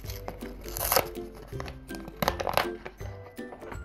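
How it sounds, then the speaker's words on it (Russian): Paper surprise packet being opened by hand, with crinkling and tearing paper in short bursts, close and fairly loud. "И давайте первый пакетик этот и откроем."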